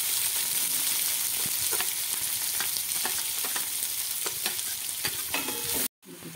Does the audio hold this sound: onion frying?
yes